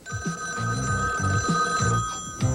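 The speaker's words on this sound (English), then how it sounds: "Suffering spaghetti, it's the pizza phone." Cartoon telephone bell from a Super Mario Bros. Super Show segment, a rapid repeating ring in quick bursts close up, with jaunty TV music underneath.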